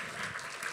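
Brief burst of audience clapping in an Indonesian-speaking gathering, a steady dense patter of hands at moderate level, near and continuous without speech over it.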